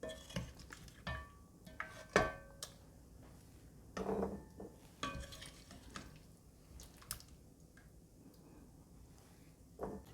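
Cooked gizzard moved from a pot into a bowl with a spoon: soft scrapes, light clinks and taps of metal on cookware in irregular bursts, close and fairly quiet.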